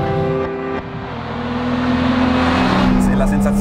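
A Lamborghini Miura SV engine revs with a rich harmonic whine that dips, then swells and rises in pitch as the car pulls away, loud and close, with a voice briefly audible.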